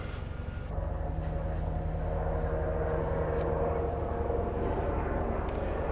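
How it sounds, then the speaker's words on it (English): Steady low engine drone of a helicopter passing overhead outdoors, a continuous loud rumble with a faint steady whine holding through the whole stretch, no talking. "We now have a helicopter."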